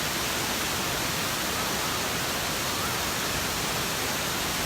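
Tat Ton waterfall in Chaiyaphum, Thailand roars as a steady, broadband rush of falling water, close and constant for the whole stretch with no other sounds breaking through.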